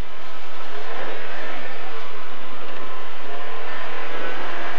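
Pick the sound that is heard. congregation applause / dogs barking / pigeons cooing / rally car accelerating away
rally car accelerating away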